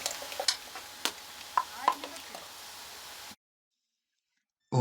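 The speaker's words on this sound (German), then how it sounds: "Und jetzt heißt es umrühren, umrühren, umrühren." A spoon stirs a cooking pot of simmering fruit with cornstarch added, knocking and scraping in irregular clicks over a low bubbling hiss, close by, before cutting to silence; no speech.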